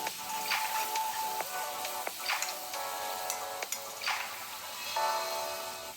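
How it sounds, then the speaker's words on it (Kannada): Onion, tomato and ginger-garlic paste frying for a prawn fry make a close, steady sizzle broken by sharp spatula taps and scrapes against the pan, with no voices. "ಈರುಳ್ಳಿ, ಟೊಮೆಟೊ, ಶುಂಠಿ ಬೆಳ್ಳುಳ್ಳಿ ಪೇಸ್ಟ್ ಚೆನ್ನಾಗಿ ಫ್ರೈ ಆಗೋ ತನಕ ಚೆನ್ನಾಗಿ ಫ್ರೈ ಮಾಡ್ಕೊಬಿಡಿ."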